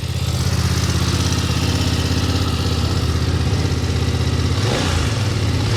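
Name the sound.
BMW F 900 XR motorcycle engine idling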